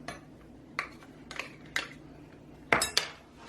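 A spoon clinks and scrapes against a bowl while shredded coconut is stirred together with maple syrup, giving several short, quiet knocks spaced irregularly, with the final pair sharper and louder, and no talking.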